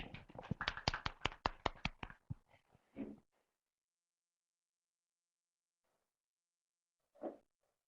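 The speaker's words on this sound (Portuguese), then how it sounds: "Uma salva de palmas aí para a Patrícia" Audience applause at a health tutoring training session, a burst of dense hand claps for about three seconds that thins out and stops, followed by silence and a faint isolated sound near the end.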